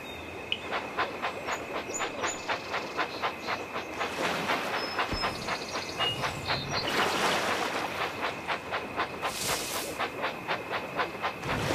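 A Thomas and Friends Minis toy train clatters steadily along its track, with rapid rhythmic clicks from the wheels and a whirring motor, fairly close and without voices.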